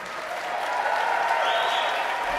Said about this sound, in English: Let's hear one loud round of applause for Bella once again.